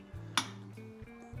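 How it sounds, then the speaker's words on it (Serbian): Baked feta pasta is stirred in a dish, with a sharp utensil clink against it followed by soft scraping and light knocks, close and quiet. "Sada fino sve to promešamo."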